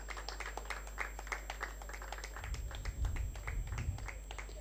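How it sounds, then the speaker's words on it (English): At a sports league press conference, a small crowd claps in a scattered, fairly quiet patter over a constant low electrical hum, growing slightly fuller partway through. "A round of applause, everybody."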